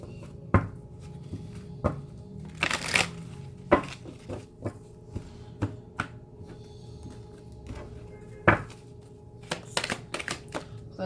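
Tarot cards being shuffled and drawn, heard as soft, close, irregular card flicks, slaps and rustles with quiet pauses between them.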